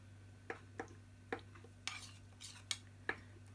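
A spoon stirs tea in a cup, giving about seven light, bright clinks at uneven intervals against a faint background hum.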